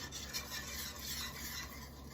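A whisk stirs alfredo sauce in a pan as it heats toward a boil, giving a soft, continuous scraping and swishing that stays quiet throughout.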